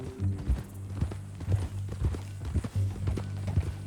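Horse hooves clip-clop in a steady walking rhythm in Red Dead Redemption 2, with muffled thuds over a low, droning background.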